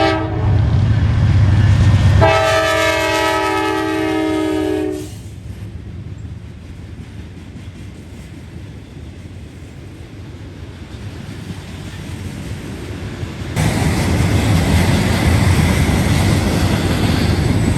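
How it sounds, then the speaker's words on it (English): Rail train carrying new rail out to a work site, a long horn blast sounding loud and close before the cars rumble steadily past outdoors, with the roar swelling again near the end. "this rail train is heading out there to take new rail to lay down"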